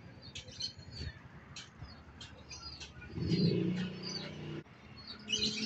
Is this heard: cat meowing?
no